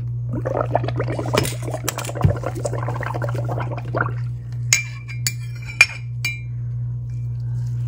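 Resin being spooned with a large spoon for a dragon scale coaster, giving small glassy clinks and liquid trickles over a steady low hum, then a few sharper taps and clinks spaced apart in near silence.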